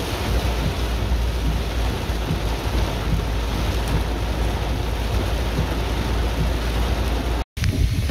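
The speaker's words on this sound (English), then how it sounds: "Well, it is raining," Heavy rain pours down in South Florida in a dense, constant hiss, with a low rumbling undertone like distant thunder.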